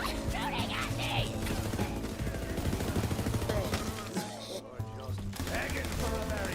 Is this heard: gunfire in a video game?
yes